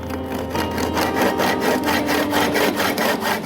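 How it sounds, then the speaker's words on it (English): A hand saw trims both sides off a small wooden stick, giving a loud, close, continuous rasping with an even back-and-forth rhythm of quick strokes and no talking. "I will trim both sides off of that stick so that it sits down into the box."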